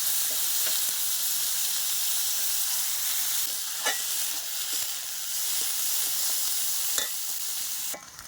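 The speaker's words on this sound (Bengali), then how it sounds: "দিয়ে দিচ্ছি পেঁয়াজ। পেঁয়াজটা একটু বেশি করেই দিব" A generous amount of onion fries in a pan as the base for a fish dopiaza, giving a steady close sizzle and hiss with a few faint clicks of stirring throughout. No voices.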